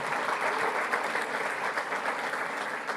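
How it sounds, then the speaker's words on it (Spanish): Church congregation clapping for Jesus during a Spanish-language sermon, a dense, even wash of many hands that holds steady throughout without a break. "Damos un aplauso a Jesús"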